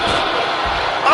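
A wrestler crashes onto a table at a live wrestling show, one loud heavy impact over a roaring crowd and talk.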